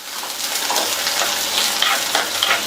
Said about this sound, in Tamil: அடுத்து கறிவேப்பிலை எல்லாத்தையும் நல்லா வதக்கி விட்டுக்கலாம்.